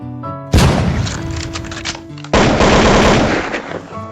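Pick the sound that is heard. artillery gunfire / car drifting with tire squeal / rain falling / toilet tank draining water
artillery gunfire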